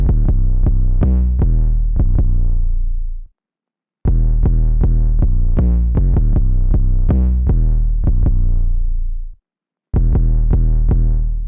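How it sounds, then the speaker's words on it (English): Booming 808 bass from the Blueprint drum kit, played on a sampler track, follows a chord progression in loud, deep, sustained notes with punchy attacks, broken by two brief gaps of silence. "you use your Art Best 808 from the Blueprint drum kit"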